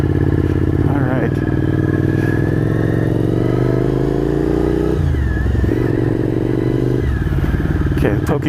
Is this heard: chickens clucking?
no